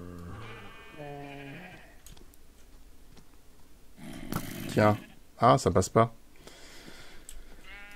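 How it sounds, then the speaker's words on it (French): Sheep in the Minecraft video game bleat several times in a quick cluster, loud and close, following a stretch of speech from a person talking, with a few more bleats trailing off at the end. "Poussez-vous les moutons."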